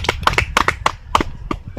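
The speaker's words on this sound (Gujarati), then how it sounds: "પેલથી તાળી વગા દીજો" Sharp hand claps at a singing contest, in a loose, uneven rhythm, about eight in under two seconds, close by, with faint voices murmuring underneath.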